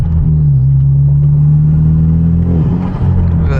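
Genesis Coupe with a manual gearbox and aftermarket exhaust, heard up close on a night drive, gives off a loud, deep, steady droning growl with a brief dip in pitch near the end.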